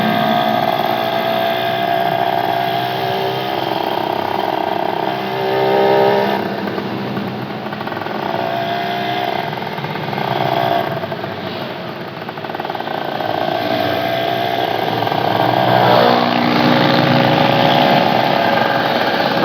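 A motorcycle engine with a loud racing exhaust idles and revs for a long stretch, raspy and close, swelling and easing in waves.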